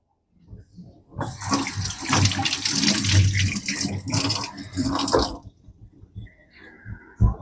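A kitchen tap runs to wet hands before handling sourdough, a steady close splashing flow for several seconds that stops, followed by a few faint drips and clinks.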